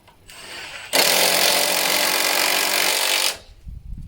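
A power driver runs steadily for over two seconds, driving a screw into a pre-drilled pilot hole in the wooden frame of a swing seat, loud and close, with a short quieter whir before it.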